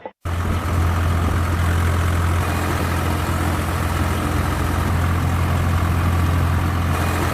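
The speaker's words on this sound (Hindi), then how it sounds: "दिल्ली की सीमाओं पर हजारों ट्रैक्टरों और ट्रॉलियों का काफिला पहुंच रहा है" A convoy of tractors and trolleys idles steadily, a continuous deep engine rumble holding level throughout after a brief start, with no voices.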